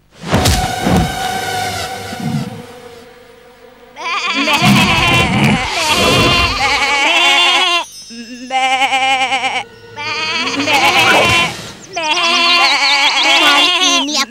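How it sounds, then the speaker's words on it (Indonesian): Sheep in an animated Little Krishna story bleat repeatedly and loudly, several long wavering calls following one another, with a rumbling effect at the start. "Mencuri domba-domba ini dari Sridam."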